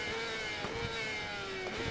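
A motorcycle engine in RIDE 4 revs hard on throttle with a steady rising whine, sustained and close throughout the short stretch on track.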